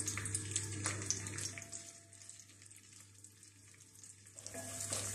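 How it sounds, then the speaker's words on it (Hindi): Chopped nuts fry in melted ghee or oil, a soft, steady sizzle with occasional stirring clinks close by, fairly quiet, with no voices. "ये तमाम नट्स हम इसमें डाल देंगे। नट्स को फ्राई कर लेते हैं।"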